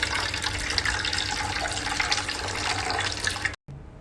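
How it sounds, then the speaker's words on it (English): Water gushes steadily from the drain tubes of a 360-degree cryolipolysis machine into the outlet, a continuous close splashing flow that cuts off abruptly near the end. "then the water will come out from the tubes"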